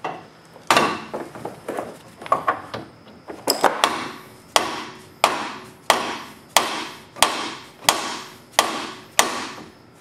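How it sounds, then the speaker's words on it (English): A sledgehammer striking a car strut bolt to knock it loose, delivering a steady series of sharp metallic blows, about a dozen evenly spaced hits growing regular after a few irregular taps, close and clear. "So we're going to just tap it with the sledgehammer and see if we can get it loose."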